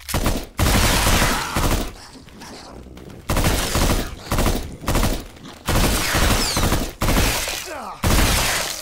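Gunfire in the video game The Brookhaven Experiment: loud, dense bursts of automatic shots in repeated volleys separated by short gaps, close and dominant throughout.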